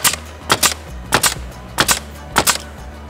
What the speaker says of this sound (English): shoot 5 nails per second